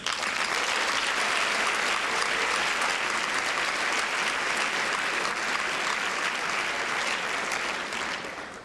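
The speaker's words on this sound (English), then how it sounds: "Please join us in giving a big round of applause for all the heroes of the Keenan Revue." An audience at the Keenan Revue, a student comedy show, gives a big sustained round of applause, dense continuous clapping that stays loud for several seconds before fading toward the close.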